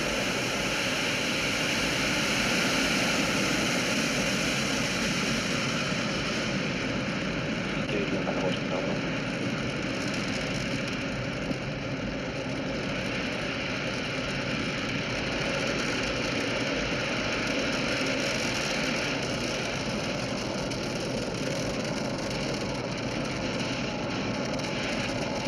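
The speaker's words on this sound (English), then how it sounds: "Falcon 9 has taken off." SpaceX Falcon 9 rocket engines during liftoff on a polar launch, heard as a steady, dense broadband roar and rumble that holds constant throughout, distant and uniform with no speech.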